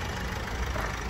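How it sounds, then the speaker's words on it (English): A car engine idles steadily, a low, even rumbling hum with no revving, continuous and fairly close for about a second, heard alone with no talk. "the car is idling spot on us at the moment"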